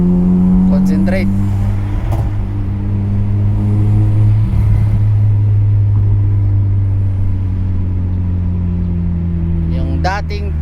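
A Honda Civic FD engine holds a steady, loud droning hum at raised revs, with strong harmonic tones and little rise or fall, while voices talk over it.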